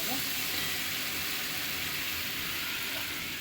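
A khichuri base seasoned with turmeric and salt sautés in a pan, giving off a continuous, even sizzle at close range with no clear breaks.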